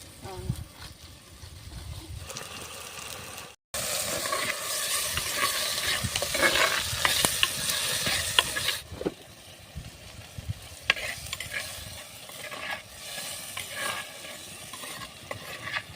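Onions and tomatoes frying for a salted-fish dish, stirred in a pan: scraping stir strokes and a sizzling hiss, louder in the middle stretch after a brief cutout, with people talking over parts of it.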